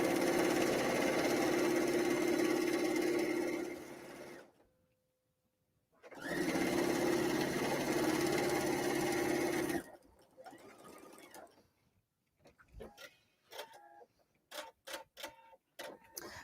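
A sewing machine back stitching fabric for a paper-pieced kimono tea cozy runs in two steady, loud whirring bursts separated by a short pause, followed by sparse clicks and handling taps as it stops.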